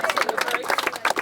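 Audience applause at a talk on polluted air and Duke Energy's cleanup, a brisk, irregular patter of many hands clapping, moderately close and fairly loud throughout the short burst.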